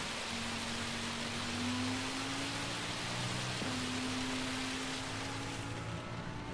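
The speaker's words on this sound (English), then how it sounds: "Oh, this is a big rain shower." Heavy rain shower at a racing track during a GTTCC racing event, a dense, steady hiss of falling rain with a faint low tonal hum under it and no talk.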